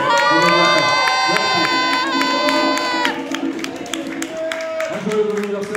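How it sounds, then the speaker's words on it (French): A concert crowd cheers and shouts loudly with scattered clapping, then settles into a quieter murmur with applause and a few calls. "Un tonnerre d'applaudissements."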